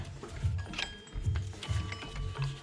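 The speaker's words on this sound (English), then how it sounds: "Just work the belt off all the pulleys." A serpentine belt being worked off the pulleys of a Ford 7.3 Powerstroke diesel engine in a truck, giving close, irregular rubbery scrapes and mechanical clicks and squeaks over a low background rumble, with no talking.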